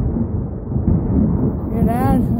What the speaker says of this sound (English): Ooh, there's a nice lightning strike.